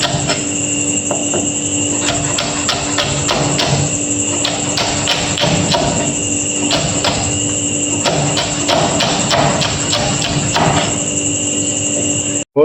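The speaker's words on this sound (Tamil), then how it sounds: "பச்சை மிளகாயும் இந்த மாதிரி குட்டி குட்டியாக கட் பண்ணி எடுத்துப்போம்" Green chillies being chopped into small pieces on a cutting board in a home kitchen, a steady run of sharp knife taps in quick bursts with short pauses, close and clear over a constant background hum.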